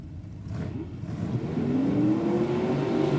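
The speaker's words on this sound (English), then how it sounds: "On track now, there's a Willys coupe down there" A Willys coupe gasser drag car revs at Sydney Dragway, a steady engine drone rising in pitch and loudness over a rumbling background, moderately distant.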